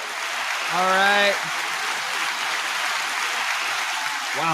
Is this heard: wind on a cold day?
no